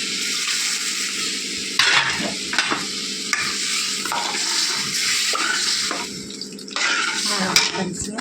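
Continuous crackling sizzle of curry leaves frying in hot oil, with occasional stirring clatter and bursts of louder spattering throughout.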